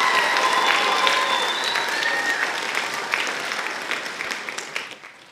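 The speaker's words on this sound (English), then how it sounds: "So a big round of applause to those parents." Audience at a middle school music day concert applauds parents in dense, steady clapping that fills the room, then thins and fades near the end.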